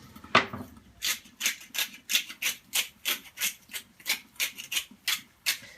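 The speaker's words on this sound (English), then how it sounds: "I should probably wash off a little oil before I start using the pepper grinder" A pepper grinder grinds pepper over food while cooking, making about a dozen close, gritty crunching twists in an even rhythm after one sharp opening knock.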